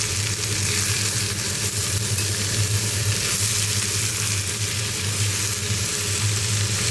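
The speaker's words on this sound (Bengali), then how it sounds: "আমি খুব করে ভাজবো এই চাল কুমড়োটাকে" Ash gourd frying in a hot pan with salt, a steady, continuous sizzle held close and even throughout with no talking.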